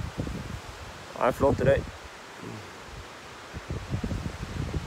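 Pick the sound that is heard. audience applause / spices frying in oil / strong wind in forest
strong wind in forest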